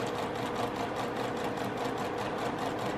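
A mechanical sewing machine chain pieces quilt pieces, its steady, fast stitching whir running continuously and evenly at close range with no pauses.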